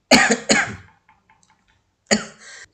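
Two quick harsh coughs in a row, a pause of near silence, then another rough cough.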